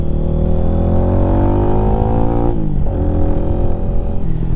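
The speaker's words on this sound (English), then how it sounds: "Rev it up a little bit, and downshift." A Lifan motorcycle engine revs steadily with strong harmonic drone, pitch dropping sharply partway through as it downshifts, then settling and climbing again; loud and close with no talk.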